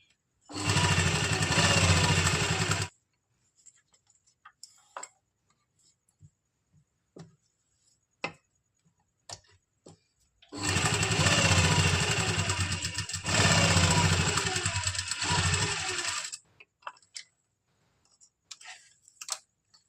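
An electric sewing machine runs stitches through a suit neckline backed with buckram, in two long steady whirring bursts. Quiet taps and clicks of handling fill the pause between them.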